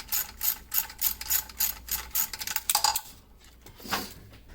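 Hand ratchet clicking on the upper intake bolts of a Pontiac Fiero, a close, rhythmic series of rapid pawl ratcheting bursts with brief pauses, ending in a few softer metallic clinks.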